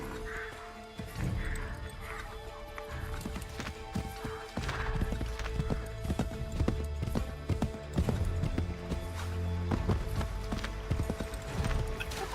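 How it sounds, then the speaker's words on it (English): Rapid hoofbeats of a galloping horse pound steadily over a busy game soundscape in Assassin's Creed III Remastered, with a brief whinny early on. "Get back on the horse, Connor."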